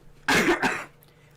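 A person gives one quick, close cough with two sharp bursts, then falls quiet.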